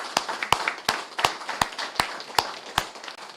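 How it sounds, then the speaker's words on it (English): Claps ring out in a steady, even rhythm after a debate at the 2025 FSM National Law Day event, about eight crisp, sharp claps spaced evenly apart with a little room echo. "let's give our debaters a big round of applause"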